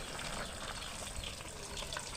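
Steady, dense sizzling of fish frying in a pan, a continuous crackling hiss with small pops, no voices.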